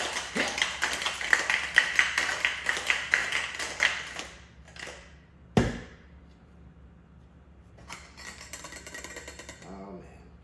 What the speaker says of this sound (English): Time to shake.